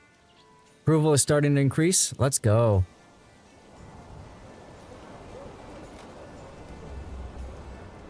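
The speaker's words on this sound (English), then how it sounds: "Starting to rain now." Rain begins in a medieval village-building video game, a faint hiss that rises gradually after someone speaks briefly over the game sounds.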